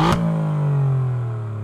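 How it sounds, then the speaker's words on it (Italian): An Alfa Romeo Giulia or Stelvio Quadrifoglio 90-degree V6 revs in race mode with exhaust valves open, then holds a deep, steady exhaust drone that slowly falls in pitch, loud and close, after a brief sharp burst. "in modalità race apre le valvole di scarico, rendendo il suono ancora più coinvolgente e accattivante"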